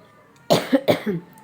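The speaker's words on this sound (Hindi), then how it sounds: "थोड़ा सा सर्दी जुकाम खांसी आती रहती है" Two quick, close coughs in succession, sharp and rasping, followed by quiet.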